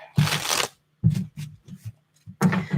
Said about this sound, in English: Trying to get some good shuffles going here